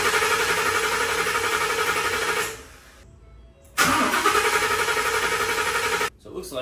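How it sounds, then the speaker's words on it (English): A 2015-17 Ford F-150 engine with an intake manifold runner control fault cranks and runs roughly, cuts out into near silence, then cranks again loudly before abruptly stopping; close and harsh. "the truck didn't even wanna start, just to stall"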